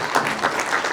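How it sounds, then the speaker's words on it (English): Audience at a leadership summit and awards ceremony applauding, a dense steady patter of many hands clapping throughout, fairly close and without talk. "Can we have a louder and more energetic round of applause?"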